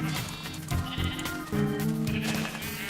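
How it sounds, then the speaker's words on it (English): Sheep bleating in the Minecraft video game, several short wavering bleats following each other closely, moderately loud and clear, with no talk over them. "We got sheep eating the grass."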